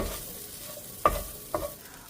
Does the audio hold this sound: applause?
no